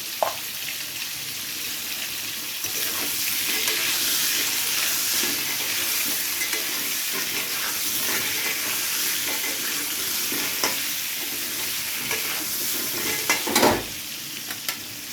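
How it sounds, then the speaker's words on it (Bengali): Potatoes with turmeric fry in a pan, a continuous soft sizzle with scraping stirs and clinks of a utensil against the pan, close and moderate, with a louder clatter near the end. "তো দেখুন আলুগুলো কিন্তু ভেজে নেওয়া হয়ে গেছে"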